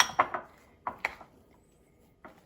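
Queso fresco and feta being quickly mixed in a bowl, heard as a few sharp clinks and scrapes of a utensil against the dish, with quiet gaps between the bursts.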